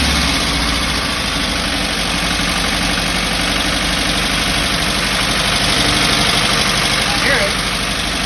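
A 1968 Porsche 912 engine idles steadily after a new O-ring, a continuous even rumble close to the microphone with no talk over it.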